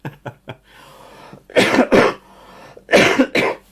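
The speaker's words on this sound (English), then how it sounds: "this cough is lingering a little bit" A few short throat clears, then two pairs of harsh, loud coughs from a person with a lingering cold, in quick succession, close by.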